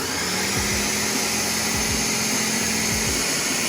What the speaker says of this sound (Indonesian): Setelah kita pindahkan ke blender, pumpkinnya sekarang kita akan blender.